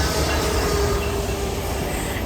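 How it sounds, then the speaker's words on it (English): A train passes close by in a continuous loud roar of rolling wheels and rail rumble, with a faint high wheel squeal, and no voices. "And there goes the train."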